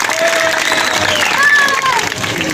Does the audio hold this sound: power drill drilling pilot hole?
no